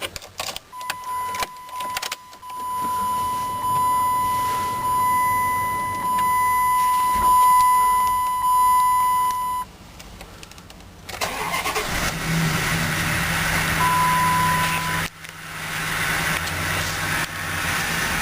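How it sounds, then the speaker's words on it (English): A 2006 Dodge Durango Limited with 58,825 miles cranks and catches, then settles into a steady idle, with a brief pause and a second stretch of running engine later; no talking. "let's fire it up"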